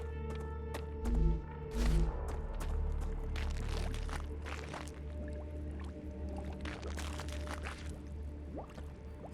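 Footsteps squelching through swampy ground in the survival game StarRupture, faint wet sloshing and squishing under a low, steady ambient drone, with a couple of heavier thuds early on.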